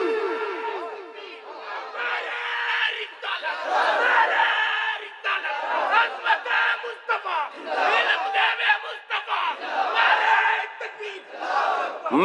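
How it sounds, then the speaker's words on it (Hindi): Crowd at a religious gathering shouting the takbir slogan in unison, repeated loud collective chants in waves with brief gaps between them. "नारे तकबीर।"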